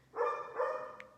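A single dog bark, fairly close and clear, followed by a softer second yelp.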